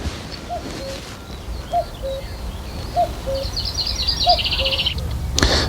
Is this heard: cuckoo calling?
yes